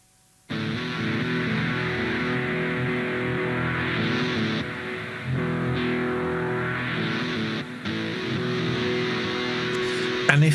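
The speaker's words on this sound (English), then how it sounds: "it turns that single guitar chord into an entire rhythm section" A single electric guitar chord is processed by an audio plugin into a continuous rhythmic texture of dense, buzzy tones. Filter sweeps rise and fall across it, and it stays loud and unbroken apart from a couple of brief shifts.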